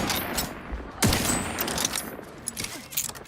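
Scattered gunfire in The Outer Worlds 2, a few sharp shots and short bursts over a dense background of combat noise, fairly quiet and set back in the mix.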